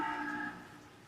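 Buffalo or cattle on a dairy farm in Gorakhpur district, India, give a single moderately loud, sustained moo lasting about half a second, then fade into quieter low background noise.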